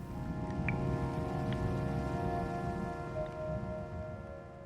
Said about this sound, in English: the sound of consistent rainfall is white noise, which can drown out other noises.